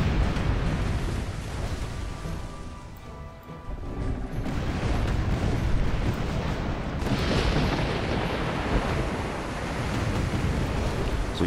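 Ship cannons fire in a naval battle in the video game Tempest, heavy booming blasts rumbling over a continuous roar of sea and surf, with a dense, loud wash throughout and no talk.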